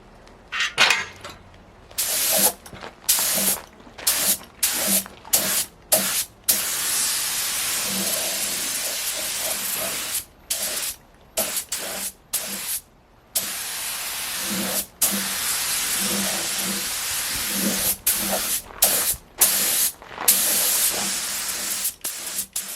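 A spray gun lays a light coat of paint on a car subframe on a flip-up stand, with loud hissing bursts of varying length separated by short silences.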